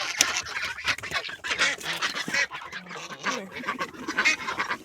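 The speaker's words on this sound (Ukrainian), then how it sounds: "Відкриваю вже всіх качечок" A flock of domestic ducks quacking busily and continuously in the morning as they are let out, many overlapping calls close by, with no voices.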